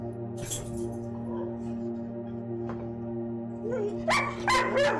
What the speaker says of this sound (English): I have both dogs in here.